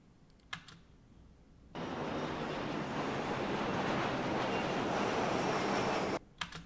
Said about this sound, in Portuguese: Então a gente pontua o som desse avião.